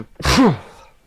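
One loud, close human sneeze: a quick intake followed by a sharp burst that trails off into near silence.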